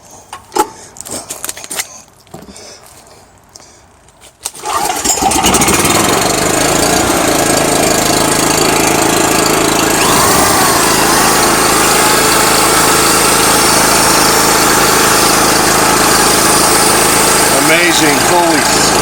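Gas generator unused for two years starting on one pull with the choke on: brief rattling handling noises and faint talk, then the engine catches and runs at a loud, steady buzz to the end.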